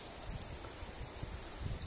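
Wind rustles leaves outdoors on a blustery day near an old Soviet utility pole, a faint, continuous hiss with soft gusty fluctuations and no voices.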